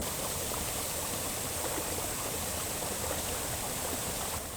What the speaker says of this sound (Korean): 선계 폭포를 제대로 볼 수 있어서 좋습니다. 그러니까 이렇게 물이 막 이렇게 떨어지는 것을